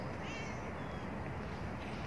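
A cat at the Rumeli Hisari fortress in Sariyer, Istanbul, gives a faint, short meow over steady outdoor wind and background noise.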